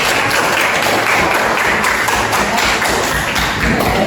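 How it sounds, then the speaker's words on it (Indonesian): Classroom applause from students in a discipline guidance lesson, a dense continuous patter of clapping hands filling the room at steady loudness throughout, with no talking over it. "Tepuk tangan."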